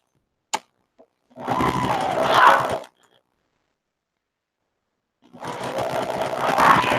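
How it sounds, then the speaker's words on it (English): A sewing machine stitches quilt pieces along a marked line in two steady runs of a few seconds each, separated by a quiet pause, with a couple of small clicks before the first run; close and loud, no voices. "You're trying to sew on the line."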